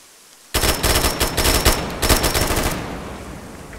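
Gunfire in the Arma video game: a sudden burst of rapid, loud automatic shots after a quiet start, about two seconds of sustained firing, then a lingering echo.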